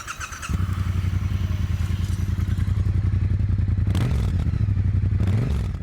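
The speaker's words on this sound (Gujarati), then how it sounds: "So this is the ટ્રાયમ્ફ બોનિવલ T120." A Triumph Bonneville T120 parallel-twin motorcycle idles close by with a steady, even thumping beat, followed by two brief throttle blips near the end.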